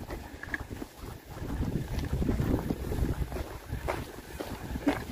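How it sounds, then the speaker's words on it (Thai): Strong wind buffets the microphone outdoors on a freezing walk in northern Sweden, a continuous loud roaring gust with surging rumble throughout. "ลมแรงนะ"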